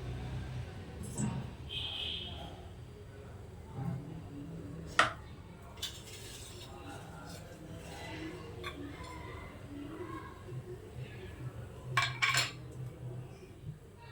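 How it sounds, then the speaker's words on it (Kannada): A pressure cooker is set down and oil is added in a home kitchen, with quiet metallic clinks and a few sharper knocks of cookware over a low background hum. "ಇಲ್ಲಿ ಒಂದು ಕುಕ್ಕರ್ ಇಟ್ಕೊಂಡಿದ್ದೀನಿ. ಇಲ್ಲಿ 1 ಟೇಬಲ್ ಸ್ಪೂನಷ್ಟು ಎಣ್ಣೆ ಹಾಕ್ಕೊಳ್ತೀನಿ"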